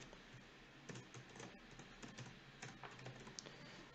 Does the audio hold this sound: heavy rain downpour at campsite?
no